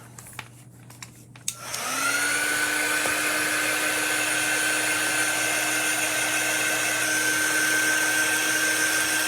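A hair dryer blows on freshly crafted chalk paste pieces, switching on after a couple of seconds of quiet handling noises and then running steadily and loud with a constant whine to the end.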